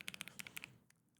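Keys on a NuPhy Air 75HE low-profile Hall effect keyboard are typed in a quick burst of about ten crisp, light clicks, close and fairly quiet, then a few softer stray taps as the typing trails off.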